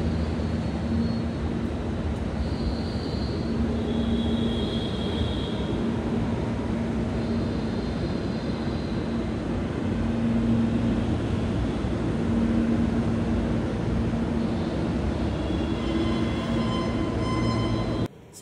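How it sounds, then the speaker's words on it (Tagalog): A RapidX Namo Bharat metro train arriving at a station, heard as a steady, loud rumble and whine throughout, with faint tonal chimes or signals above it and no talk. "So, ngayon may dumarating na naman na isang tren."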